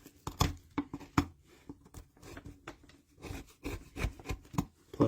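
A hand carving tool cutting into a wooden relief carving of a fantasy medieval light post, making irregular scraping, rasping and chipping strokes, close and fairly quiet, with no talking.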